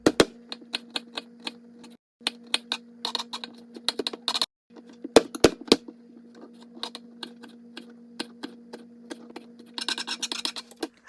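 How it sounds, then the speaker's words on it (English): A knife dicing peeled ginger on a cutting board: quick, sharp taps in bursts with short pauses, close and crisp over a faint steady hum, ending in a rapid flurry of chops. "you're just gonna go ahead and peel this and dice this ginger"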